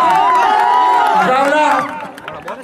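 A crowd at an outdoor kabaddi final cheers and claps loudly while an announcer talks over the noise, and the din drops off toward the end.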